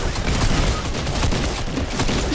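Shotgun gunfire in a video game, a dense continuous burst of loud blasts filling the whole moment with no talk over it.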